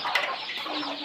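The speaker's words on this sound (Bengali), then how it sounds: "এই যে এখান দিয়ে আছে দেশি মুরগি আছে অনেক" Native chickens and young chicks clucking at a farm, short close calls over a busy background with no speech.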